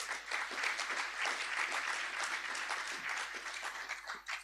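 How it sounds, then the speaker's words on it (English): A crowd at a secondary school graduation ceremony in Grenada applauds teachers, parents and guardians, sustained even clapping of many hands lasting several seconds at a fairly distant, moderate level. "Let's give all our teachers, parents, and guardians a lusty round of applause."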